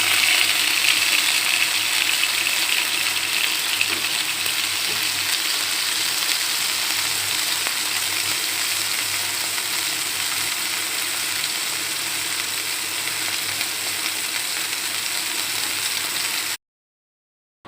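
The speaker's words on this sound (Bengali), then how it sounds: "লেমন গার্লিক চিকেনটাকে এবার আমি ফ্রাই করে নেব।" Lemon garlic chicken fries in oil in a kitchen pan, giving a steady, even sizzle that holds for about sixteen seconds before cutting off, with no one speaking.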